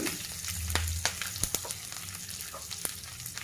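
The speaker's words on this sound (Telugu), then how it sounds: "ఆవాలండి బాగా చిట్పట్లాడేటప్పుడు ఒక 4-5 తెల్లగడ్డలు, వెల్లుల్లండి, 1 ఎండుమిరపకాయ, కొంచెం అంత కరివేపాకు" Mustard seeds crackle in hot oil as garlic cloves, a dried red chili and curry leaves are added for a tempering, giving a steady close sizzle with scattered sharp pops.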